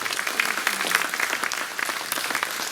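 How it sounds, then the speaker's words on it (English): Steady applause from a crowd at a Squatch Fest speaker panel, dense clapping filling the whole stretch at an even, moderate loudness with no pauses. "Give them all a round of applause."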